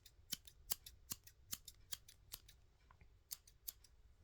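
Quiet, close-up scissor snips next to the ear, roughly a dozen sharp metallic clicks in an uneven rhythm with a brief pause midway, heard alone against a hushed background.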